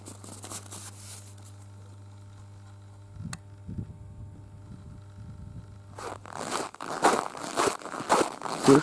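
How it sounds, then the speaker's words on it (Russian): Footsteps crunching through dry snow at minus 27 degrees on a winter morning, a few sparse steps early on over a low hum, then a close, loud run of crisp crunches toward the end. "Хруст под ногами."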